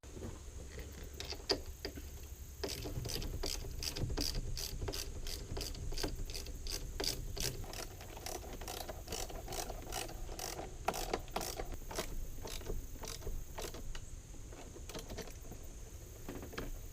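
Rapid ratchet clicks tightening the battery terminals on a Ford F250 Super Duty 6.0L, in quick regular bursts close up over a low shop hum, with brief pauses between runs of strokes.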